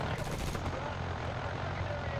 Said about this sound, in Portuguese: Nossa, como é lindo um helicóptero